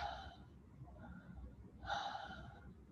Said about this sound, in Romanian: deschid gura și respir pe gură, inspir și expir pe gură.